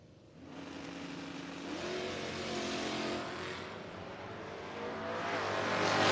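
A drag race car, a 1990 Fox Body Mustang or a 1978 Dodge Aspen in a no-box 660 shootout, roars and builds in pitch as it accelerates, loud and continuous, with engine tone rising toward the end.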